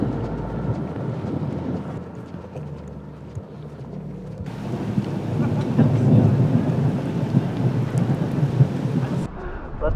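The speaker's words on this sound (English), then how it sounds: "Big thunder." Thunder from a storm at the beach in Scheveningen rumbles deep and loud, swelling midway with wind buffeting the microphone and rain hiss throughout, no clear speech.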